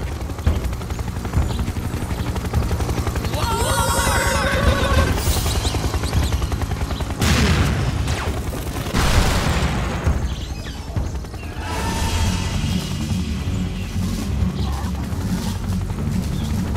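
Mounted turret gunfire and explosions in a video game battle against advancing troops, a dense sustained barrage of shots and booms with a rumbling low-end bed and sharp blasts around the middle, loud and continuous, with no talking.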